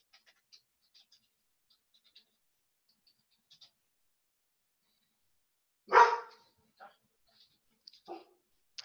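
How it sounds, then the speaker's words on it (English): A dog gives one sharp, loud bark in a quiet room, followed by a few softer yips and small clicking sounds scattered through the stillness. "That's my dog."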